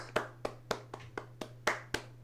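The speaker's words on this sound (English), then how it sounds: "I want to give him a round of applause" Eight sharp hand claps at a slow, steady pace, close by, each a crisp isolated smack over a faint hum.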